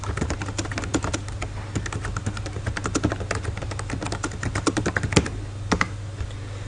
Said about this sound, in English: Simply by typing in and clicking enter or add.